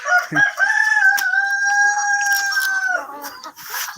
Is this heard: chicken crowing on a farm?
yes